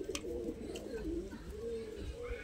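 Pigeons in a breeding loft, including a Laldom and Kasma pair, give soft, throaty rolling coos close by, repeating through the moment while someone talks faintly over them.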